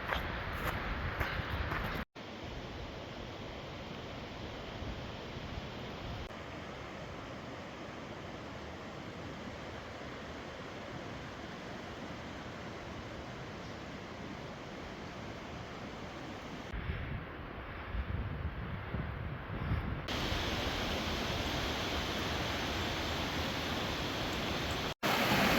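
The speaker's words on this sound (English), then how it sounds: "Pretty cool waterfall." Fourmile Falls near Pagosa Springs, Colorado, a waterfall pouring steadily as a broad, close roar of rushing water, loud and continuous throughout with wind buffeting the microphone.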